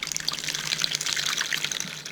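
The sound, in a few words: water poured over produce being mixed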